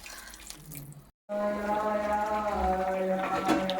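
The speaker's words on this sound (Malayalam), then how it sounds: "ഇനി തിളച്ചോണ്ട് ഒഴിക്കാം" Boiling water poured into a cooking pot: a steady, fairly loud watery gush that follows a brief break, continuing evenly to the end.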